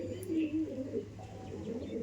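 Laldom and Kaldom pigeons coo softly in a low, rolling murmur, faint and close, with a quiet background hum throughout.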